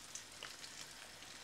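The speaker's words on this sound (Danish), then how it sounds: "Vores fisk er blevet stegt." Whole plaice frying in butter in a pan gives a steady, close crackling sizzle with scattered small pops, alone without speech.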